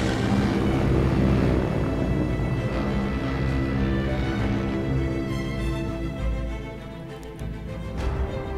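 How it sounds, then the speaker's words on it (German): Airship engines in the Battlefield 1 video game, a deep, droning propeller hum with layered tonal overtones, steady and fairly loud, easing slightly before swelling again near the end. "We are being reinforced with an airship."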